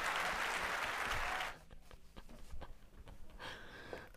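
Dense audience applause rings out at a Spanish-language church conference session for about a second and a half and then stops abruptly, leaving a lone voice speaking over faint room noise.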